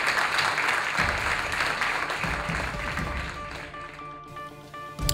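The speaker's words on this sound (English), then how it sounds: "Big round of applause for our top three." Audience applause at a spelling bee finals, a sustained burst of many hands clapping that tapers slightly before swelling again at the end.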